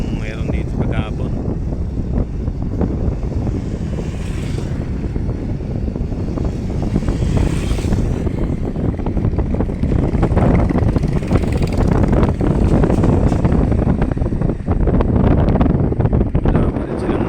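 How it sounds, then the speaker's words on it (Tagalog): Strong wind at a beach near Catangnan Bridge in Siargao in the morning: a continuous loud roar and buffeting rumble against the microphone, with gusts swelling louder in the second half and a voice faintly present beneath. "Malakas kasi ang hangin."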